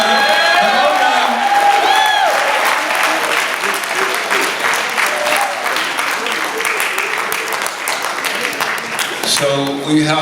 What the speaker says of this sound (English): Y'all give another show a round of applause.